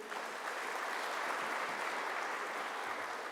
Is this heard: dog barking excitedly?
no